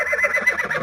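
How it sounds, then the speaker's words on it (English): A crow call, recorded as source material for creature sound design in Star Citizen: a short, close, squawky cawing with a harsh nasal tone, heard alone. "so this is a crow"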